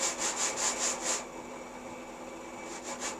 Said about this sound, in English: I sand them down